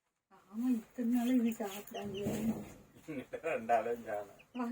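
Hen clucking mixed with people talking nearby, the clucks blending into the conversation at moderate loudness.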